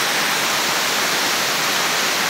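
Steady broadband roar of rushing water at the Cachoeira da Árvore Caída waterfall in Ribeirão Bonito, a dense, constant hiss heard close and loud with no voices.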